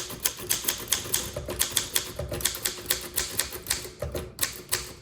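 A 1955 Underwood Ace manual typewriter typed on at a steady clip, crisp close keystrikes landing in a quick, even rhythm one after another.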